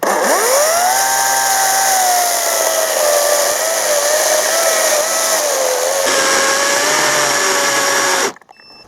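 A loud chainsaw runs steadily at high revs while cutting wood, its engine whine dipping under load, then cuts off abruptly near the end.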